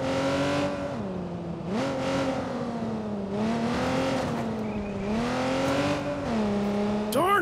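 Car driving in the video game Watch Dogs 2, a steady engine hum that rises and falls through several gear shifts and accelerations, moderately loud with no talking.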